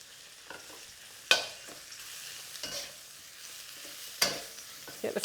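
Mushrooms sear in a hot pan over high heat, a steady hiss of frying broken by a few sharp clatters and scrapes as they are stirred and pressed.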